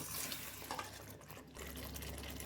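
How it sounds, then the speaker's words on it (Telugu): Water poured from a mixer jar into a simmering egg and drumstick curry, a soft, quiet splashing pour with a brief lull before it resumes. "ఈ మిక్సీ కప్పుల మసాలా ఉంటుంది కదా అందులో వాటర్ పోసేసి పోసేసుకున్నాను"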